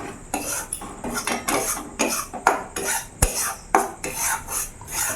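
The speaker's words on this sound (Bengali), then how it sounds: "ভালো করে নেড়ে নেব।" A spoon stirring and scraping hing kachori filling in a metal pan, a close, rhythmic series of clinks and scrapes with no talk.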